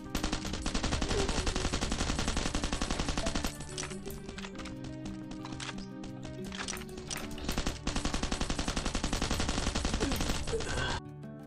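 Sustained automatic gunfire from a rooftop shooter in the survival game Last Island of Survival, steady rapid bursts with a dip mid-way, loud and continuous under a dense game soundscape.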